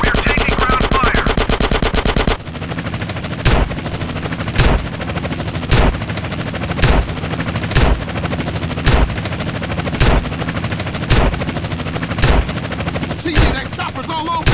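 Sustained rapid machine-gun fire in GTA San Andreas, a dense continuous burst followed by a steady rattle punctuated by regular loud shot bursts, with a helicopter engine droning underneath.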